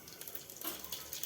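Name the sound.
cumin seeds sizzling in hot homemade ghee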